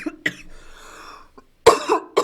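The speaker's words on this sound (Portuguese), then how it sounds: "Até a tosse veio agora." A woman coughs repeatedly in an indoor recording, several sharp close bursts spread unevenly with a rough breathy stretch between them, ending in a louder cluster of coughs.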